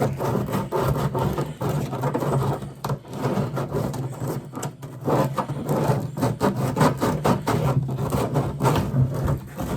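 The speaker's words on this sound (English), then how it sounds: "sand them all off" Rapid, scratchy back-and-forth rasping of sandpaper on drilled wood, sanding off fuzzy fibers left by drilling, close and continuous, with short uneven strokes and a faint motor hum behind.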